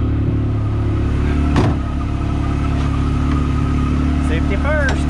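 A Yamaha YXZ1000R side-by-side sitting warmed up with its engine idling steadily and evenly, a low continuous rumble close by, with a short knock and a faint rising whine near the end.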